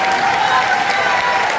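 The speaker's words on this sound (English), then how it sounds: "Let's give them one more round of applause." Parents and guests at a Palisades High School spring band concert in Charlotte applaud the beginning band, a full, steady roar of clapping mixed with crowd noise that stays loud for the whole short stretch.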